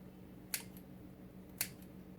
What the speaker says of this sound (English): Take your bait, whatever bait. I'm going to start with red, and you want to cut it up into little bitty pieces.